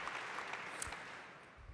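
A conference audience at INBOUND 2018 claps in a soft, distant patter of many hands that fades gradually, heard faintly throughout.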